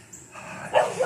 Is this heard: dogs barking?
yes